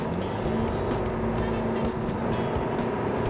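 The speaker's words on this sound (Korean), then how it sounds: "급가속 한번 해보겠습니다." An Audi A6 35 TDI 2.0 diesel sedan, recently repaired after a failed high-pressure fuel pump, accelerating hard with a loud, steady engine drone and road roar heard from inside the cabin.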